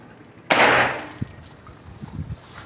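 A single sharp shot from a Ruger AWM PCP air rifle on power setting 5, a loud hissing crack that trails off quickly, followed by faint clicks and handling noise nearby.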